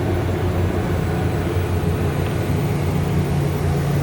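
A truck rolls slowly past at a trucking terminal, giving a steady, loud low rumble and engine drone that holds evenly throughout with no talking.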